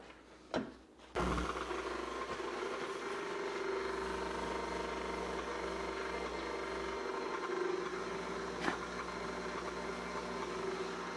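Electric mixer whirring steadily as it spins carrot cake batter, a continuous motor hum that starts abruptly after a brief knock and runs alone at close range.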